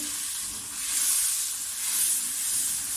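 Steady, loud sizzling and hissing as water is added to a hot pan of fried onions and spices for fish biryani, continuing evenly for a few seconds with no voices.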